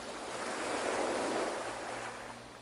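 Ocean waves wash onto the shore in a soft, steady broadband rush that swells and recedes, distant and gentle with no voices.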